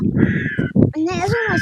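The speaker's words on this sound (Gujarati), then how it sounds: "પાછો કાગડો બોલે છે" A crow caws with harsh, raspy calls near the end, mixed with people talking and laughing in a noisy home setting during a comedy skit.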